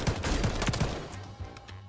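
A DM56 marksman rifle fired in a video game, several sharp shots in quick succession, then a quieter tail of fainter reports.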